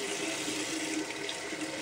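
Steady warm water running from a bathroom tap for washing hands, a continuous even rush of flow heard nearby and alone.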